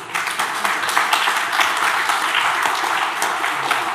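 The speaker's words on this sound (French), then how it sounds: "je vous présente et je vous demande de les applaudir." Audience applause for two authors presented on a French talk program, a dense, even wash of clapping from many hands, steady and fairly loud throughout.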